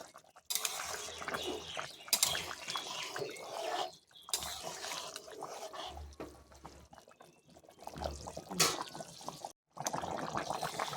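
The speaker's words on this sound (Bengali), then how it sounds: "ঢাকা দেওয়ার থালাটা আমি খুলে নেব এবং আমি একটু নাড়িয়ে দেবো" A plate lid is lifted off a pan of sour potato curry and a spoon stirs it: repeated scraping and clattering of metal on the pan in short bursts, broken by brief pauses, close and fairly loud.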